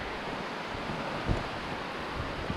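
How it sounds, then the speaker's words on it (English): Steady, dense roar of heavy rain pouring down outdoors in a wooded survival camp, broadband and continuous with a few louder thuds of drops or gusts, no voices. "It is pouring down rain."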